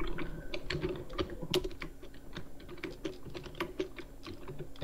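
Rapid, uneven typing on a computer keyboard during a Minecraft server game session, with crisp key clicks and occasional louder taps, close and clear with no talking.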